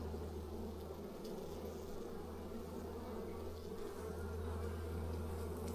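A steady, dense buzz of honey bees swarming around hives in remote New Zealand bush during wintering down, close and continuous with no voices.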